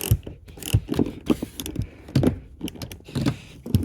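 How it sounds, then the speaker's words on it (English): A ratchet works loose the 13 mm center bolt of a rear seat in a 3rd or 4th generation F-body car, giving close, quick clicking strokes in uneven bursts with no talk over them. "You just put your ratchet on there, break it free"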